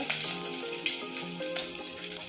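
Cumin and ginger-garlic paste sizzle and crackle steadily in a small amount of hot oil for hotel-style dal tadka. The frying hiss is close and continuous, with faint tonal clinks throughout. Nobody speaks.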